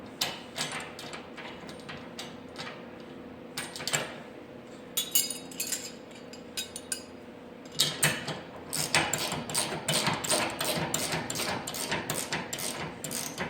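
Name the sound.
tightening fittings on a wall or rack mount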